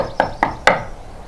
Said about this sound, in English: called Daddy Pig, knocking on the door.